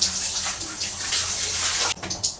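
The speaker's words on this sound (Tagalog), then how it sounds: "Babanlawan ko na lang siya." Warm water pours and splashes steadily during a caregiver's bath of an elderly person, with a brief break near the end before the rinsing resumes; no talking.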